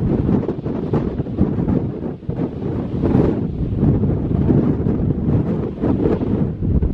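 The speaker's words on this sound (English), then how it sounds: "Whoa, that wind is blowing me all over the place." Strong wind buffets the microphone on a Scottish mountain hike up Ben Hope, a loud continuous roaring rush that surges and dips without pause, with no talking.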